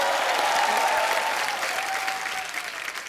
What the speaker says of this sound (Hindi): खैर जोरदार तालियां करण सर के लिए